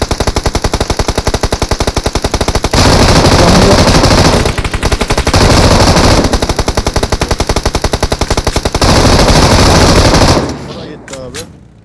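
Heavy automatic gunfire from a video game runs almost continuously in long, loud bursts with brief gaps, then cuts off near the end into a few sharper scattered sounds.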